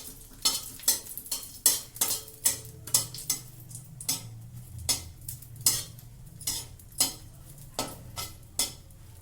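Dried red chillies fry in a pan with cumin, giving quiet crackling and sizzling under repeated stirring and scraping clinks of a spoon against the pan.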